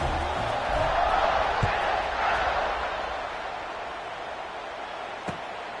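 A packed stadium crowd roars as a college football kickoff approaches in the NCAA 26 video game, a dense, steady wall of cheering that swells early and then settles into a sustained hum.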